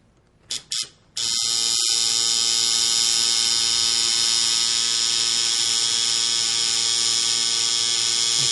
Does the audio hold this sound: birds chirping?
no